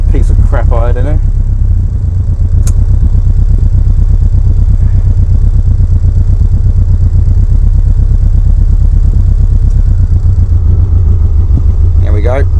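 A motorcycle engine idles steadily and loud close by, a low even throb with a slight clatter, while someone talks briefly over it at the start and end.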